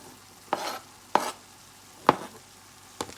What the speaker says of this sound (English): So we're going in with the regular onion and the green onions.